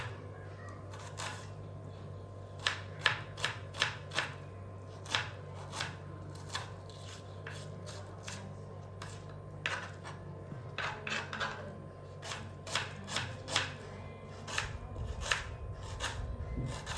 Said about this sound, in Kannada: ನಾನಿಲ್ಲಿ ಈರುಳ್ಳಿ ಟೊಮೆಟೊ ಹಣ್ಣೆಲ್ಲ ಕಟ್ ಮಾಡಿ ತಗೋತಾ ಇದ್ದೀನಿ